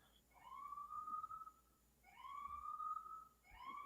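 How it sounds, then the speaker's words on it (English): Police sirens wail in New York City, distant and faint, in repeated rising tones with a gap between each cycle and low background noise. "if I didn't know you're in New York, Jose, just hearing the cop sirens, I know you're in New York."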